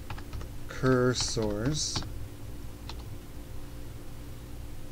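Keys clatter on a computer keyboard under Lubuntu, quick close taps running through the clip while someone speaks briefly near the start.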